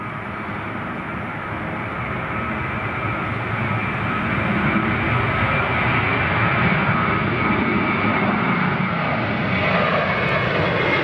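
A fixed-wing airliner's engines drone steadily during a crosswind approach and landing at Newcastle Airport in stormy weather, a loud continuous roar that swells slightly as power increases, with no speech.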